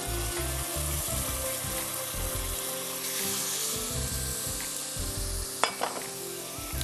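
Onion and garlic paste fries in a hot pan with a steady, close sizzle, and a brief clatter of stirring comes near the end.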